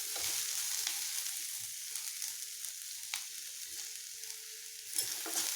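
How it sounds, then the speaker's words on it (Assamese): Okra (bhindi) frying in a pan, a steady close hiss and crackle of sizzling oil with occasional stirring scrapes, no voices. "এনেদৰে ভিন্দিখিনি ভাজা 2-3 মিনিটমান সময় হৈছে"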